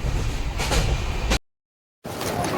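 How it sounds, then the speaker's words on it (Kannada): A train rumbles and hisses at Murudeshwar railway station, fairly close, with a brief dropout to silence before the rolling noise resumes. "ಫೈನಲ್ ಆಗಿ ಬಂದಿದ್ದೀವಿ ಮುರುಡೇಶ್ವರ ರೈಲ್ವೆ ಸ್ಟೇಷನ್ಗೆ"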